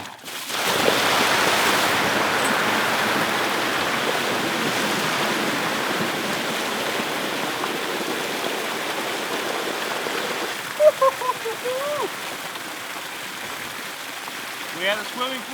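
A loud, continuous roar of rushing water pours over a waterfall, a steady broadband wash that holds throughout, with a few brief squeaky voices or shouts breaking through near the end.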